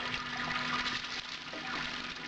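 Tap water pours steadily onto a grain bed while sparging a homebrewed stout in a Robobrew system, a continuous close splashing rush with no pauses.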